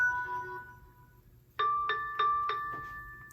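An Annke smart battery video doorbell powering on: a soft electronic tone fades, then a bright four-note chime rings out clearly, each note sustaining briefly over a quiet background.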